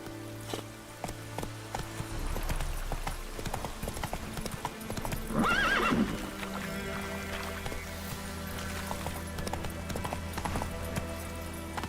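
A horse gallops in The Witcher 3, rapid rhythmic hoofbeats pounding steadily throughout, with a brief whinny midway over a game soundscape.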